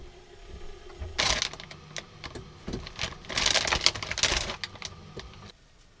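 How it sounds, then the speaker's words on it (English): A water boiler inside a camper van in winter gives off a gassy, crackling boil, irregular bursts of bubbling and popping that swell and fade over several seconds, fairly close and steady with no talk. "our water boiler is making that"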